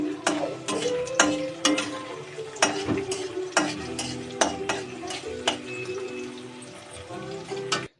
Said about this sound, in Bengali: আর আমি পেঁয়াজটা ভেজে নিলাম